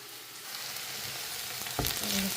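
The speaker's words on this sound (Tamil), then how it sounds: "வெங்காயத்தை வதக்குவோம்" Onions sautéing in a pan give a steady close sizzle and frying hiss, with a brief sharper crackle and stir partway through and no talk.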